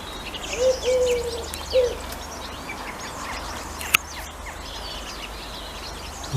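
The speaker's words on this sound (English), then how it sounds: "There's a blue tit, and in the background you can hear collared doves singing." Outdoors, a blue tit chirps amid a busy garden chorus while collared doves coo softly in the background, several short calls over a steady bed of birdsong.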